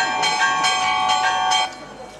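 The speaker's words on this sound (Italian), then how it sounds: "Arrivano le campane della chiesa." Church bells ringing during an outdoor town talent show in Castri di Lecce, a steady loud peal of repeated metallic strikes that fades near the end, with some talk underneath.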